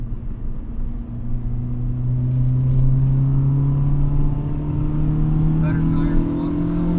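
A 2003 Honda Civic Si EP3 engine droning inside the cabin while driving, a steady low rumble rising gradually in pitch as the car accelerates, loud and continuous.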